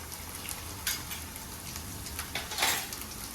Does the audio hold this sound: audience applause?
no